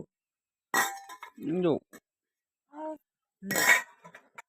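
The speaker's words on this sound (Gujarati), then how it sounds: "વાસણ ખખડાવે છે" Metal utensils clattered by a child clink in two short bursts, with voices talking in between.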